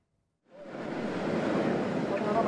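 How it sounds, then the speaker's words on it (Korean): During a typhoon, huge ocean waves surge over a breakwater, breaking in after a moment of silence as a loud, rushing roar that swells and stays sustained and close. "집채만한 파도가 방파제를 넘어와 달리던 버스를 덮칩니다."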